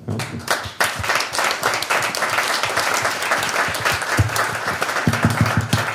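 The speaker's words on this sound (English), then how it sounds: "I believe you deserve a really nice hand of applause." Audience at the InnovMatch Grand Finale in Prague applauding a winner, with steady, dense clapping that stays loud and even throughout, a few sharper individual claps standing out near the end.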